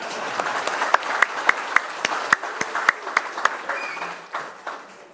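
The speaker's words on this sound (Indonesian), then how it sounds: "Kok tepuk tangannya nggak semangat dulu?" Audience applause at a PAN party national working meeting, a steady, fairly loud wash of clapping with sharper individual claps standing out, thinning toward the end.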